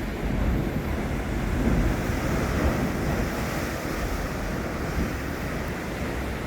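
Ocean surf roars continuously at Pancake Rocks blowholes, waves washing in with steady wind buffeting the microphone, loud and close, with no talking.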